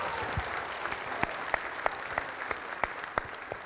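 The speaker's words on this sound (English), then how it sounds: "Can everyone just give a round of applause for that?" Audience applause fills a room at a CS50x event, a steady patter of many hands clapping with a few louder sharp claps standing out, moderately near and continuous throughout.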